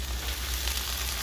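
Washed leafy greens for a mixed fried-greens dish hit a hot frying pan, giving a loud, continuous sizzle and crackle close up, with no talk.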